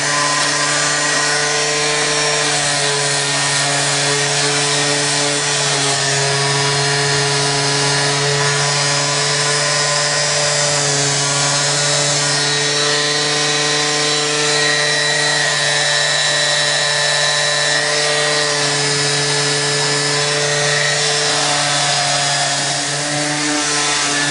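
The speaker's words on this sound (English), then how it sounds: "I'm using 120 grit sandpaper here to just kind of take the edges off and smooth them out" Wood pieces being sanded with 120 grit sandpaper by a power sander, a loud steady motor whine with strong sustained tones, continuous and close for the whole stretch with no talking.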